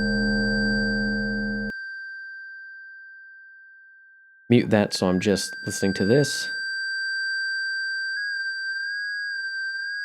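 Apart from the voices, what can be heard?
synthesizer sine tone with weird ring modulation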